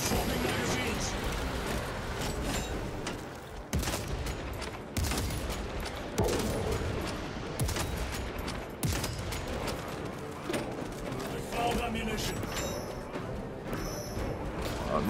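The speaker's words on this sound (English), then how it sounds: "I'm shooting." Dense, continuous gunfire and heavy impact bursts from a player shooting in the co-op campaign of Warhammer 40k Space Marine 2, loud and sustained with sharp crashes throughout, with players talking over the combat.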